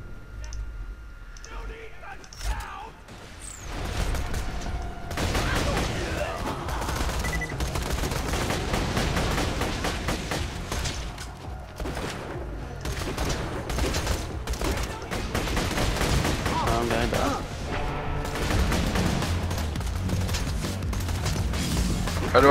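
Rapid gunfire and clicking bursts from a Borderlands 2 co-op firefight run almost continuously and loudly, with players talking over the shooting.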